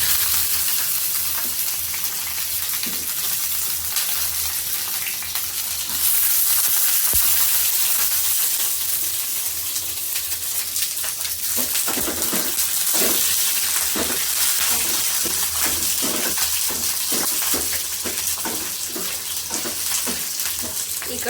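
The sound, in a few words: onions frying in a pan for mutton sambar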